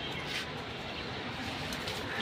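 Silver bezzie pigeons coo softly in low, rolling, quiet murmurs, fairly faint and close, with no voices.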